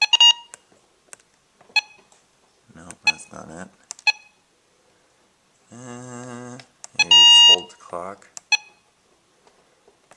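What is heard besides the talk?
weather radio beeping as its buttons are pressed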